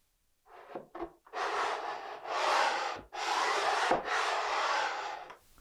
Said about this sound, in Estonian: See süvend, kuhu läheb kõlakaas, selle ma lihvin üle lihvtotsiga